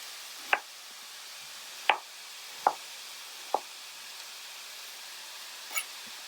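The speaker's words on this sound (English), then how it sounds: "I'm going to finish chopping up half of an onion" A knife chopping half an onion on a cutting board, five sharp, isolated chops spaced about a second apart, fairly quiet and close, with soft room noise in between.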